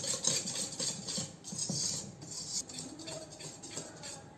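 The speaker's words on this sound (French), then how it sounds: "on ajoute la farine et on mélange à nouveau" Flour being mixed into brownie batter in a bowl, with a utensil scraping and clinking against the bowl in uneven strokes throughout, close and moderately loud.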